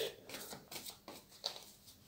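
Oracle cards being shuffled by hand in a quick, soft, close papery riffle of repeated flicks lasting a couple of seconds.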